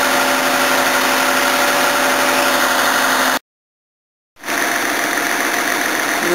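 An old Toyota Cressida with a worn 300,000 km engine idles with a bad noise, a loud, steady mechanical drone close by that cuts out briefly mid-clip and then resumes.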